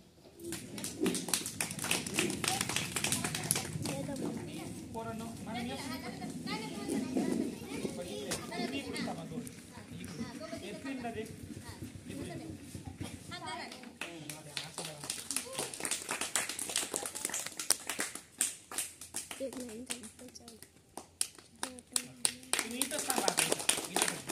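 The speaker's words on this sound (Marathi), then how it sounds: "जोरदार टाळ्या वाजवूया आपण त्याच्यासाठी" Dense, sustained clapping from a school audience honours students who competed in a centre-level English language competition, rising and falling in waves, with an adult voice and children's chatter over it.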